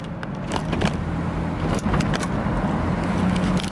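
A Chevrolet Astro minivan with low mileage idles nearby, a steady low engine rumble with a faint hum, joined by light clicks and a few taps.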